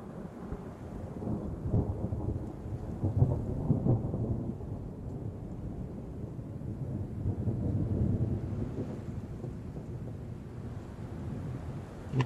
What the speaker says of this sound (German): Oh, ist der Donner laut.